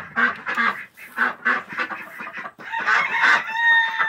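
Domestic ducks quacking in a noisy chorus, repeated nasal calls overlapping close by, with a brief pause before another burst.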